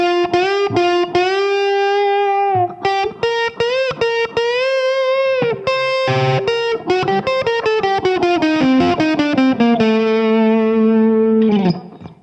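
Distorted electric guitar with effects plays a section of a song, loud single notes and bends in a busy melodic line lasting about twelve seconds, with no talking.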